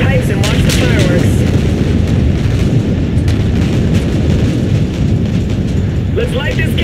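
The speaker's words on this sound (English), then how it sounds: "Visual on that tower detonation." A tower detonation in the game Call of Duty Infinite Warfare, at the SetDef fueling station: a loud, sustained explosive rumble with booming bursts that fills the whole stretch, with radio-style voices heard faintly over it.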